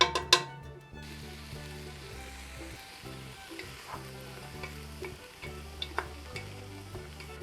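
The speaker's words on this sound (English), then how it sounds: "I just want to kind of soften and brown up these onions and peppers and stuff" Onions and peppers sautéing in a little oil for gumbo pizza, a steady sizzle with occasional spatula scrapes and a low hum underneath, a couple of sharp knocks at the start.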